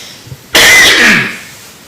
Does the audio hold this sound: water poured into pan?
no